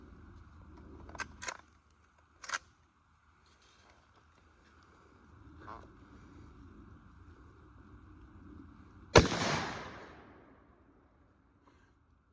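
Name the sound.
30-30 rifle shot hitting a can of Vienna sausages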